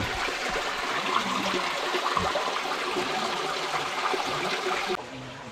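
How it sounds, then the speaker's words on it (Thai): A flowing stream of water runs steadily, a continuous broadband rush close by that holds level throughout and drops slightly near the end, with no voices. "ยังมีน้ำไหลอยู่ได้งามเลยก็ได้"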